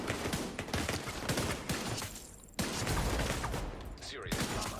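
Rapid bursts of gunfire from The Division 2 shooter game crackle close and loud in a busy, continuous combat mix, with a short gap midway before the shots resume.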